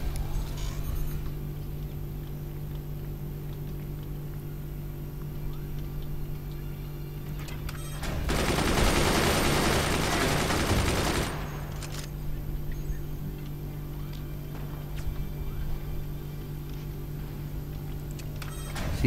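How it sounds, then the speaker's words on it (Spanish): Enemy weapon gunfire in the video game Forts, a dense rapid burst of shots lasting about three seconds midway, over a steady mechanical game hum and faint ticking. "Sigue jodiendo todavía con los disparos, ¿eh?"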